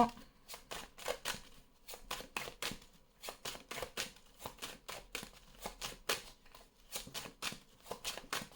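A deck of oracle mirror cards is shuffled by hand in a quiet room, producing a steady series of crisp, close riffling bursts in irregular rhythm.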